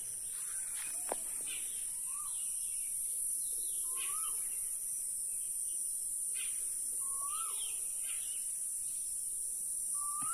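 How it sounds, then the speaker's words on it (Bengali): Birds and crickets call in Telinipara grassland near Barrackpore: a constant high cricket drone runs throughout while short, rising bird whistles repeat every couple of seconds, with a few sharp clicks, all fairly faint and distant. "শুধু পাখির আওয়াজ, ঝিঝি পোকার শব্দ"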